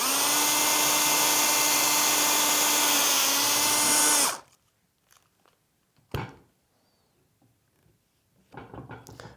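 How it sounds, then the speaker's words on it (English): A power drill bores from the inside of a PVC pipe elbow out through its bottom, giving a loud, steady whine with a strained, rising pitch for about four seconds before it stops, followed by a sharp click and faint handling noises. "We'll simply take our drill, put it from the inside of the PVC,"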